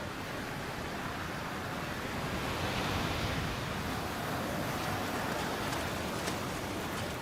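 A continuous, dense roar of sea waves churning and breaking on the Namibian coast, steady and fairly loud throughout with no distinct pauses.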